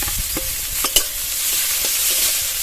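Chopped small onions hit hot oil in a pan and fry with a loud, steady crackling sizzle, broken by a few quick stirring scrapes.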